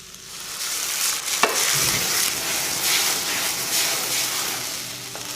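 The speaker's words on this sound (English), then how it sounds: "Perfect sautéing." Vegetables sautéing in a shallow pan, a continuous hissing sizzle with a brief sharp clink early on, close and fairly loud, no speech.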